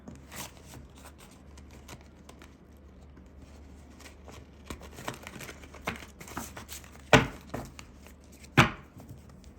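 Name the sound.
shuffling new tarot cards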